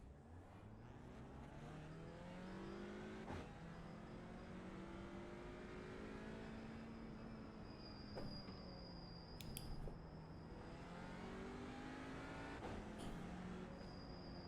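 Audi TCR race car engine in the iRacing game at the Okayama hairpin, a steady close engine note rising and falling through downshifts and acceleration, continuous throughout with no talk.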